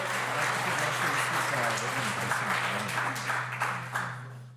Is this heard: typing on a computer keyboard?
no